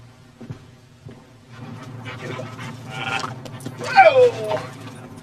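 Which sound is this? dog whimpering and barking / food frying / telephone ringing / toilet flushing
dog whimpering and barking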